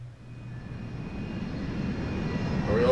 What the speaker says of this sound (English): Tell me we're all of a sudden on the plane.